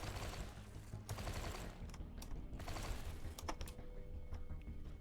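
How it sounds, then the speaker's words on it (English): Rapid bursts from an auto pistol in the Höll Space 5D6 video game, dense clattering shots in a few quick volleys over a steady game background, with no talking. "Well, that's our auto pistol."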